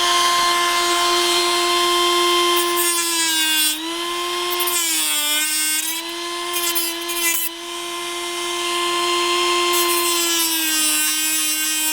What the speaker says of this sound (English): as usual I'll be using my Dremel